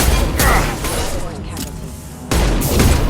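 Heavy, sustained gunfire and booming impacts from the video game Mass Effect Legendary Edition, a dense loud barrage with a brief lull in the middle before the shooting surges again, with voices mixed in.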